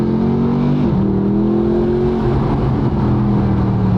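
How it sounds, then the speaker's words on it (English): A Mercedes SLS Black Series with a naturally aspirated V8 of over 600 horsepower revs close by, a loud, steady engine drone whose pitch dips and then holds for a few seconds. "Let's listen to this thing. That naturally aspirated V8, putting out over 600 horsepower."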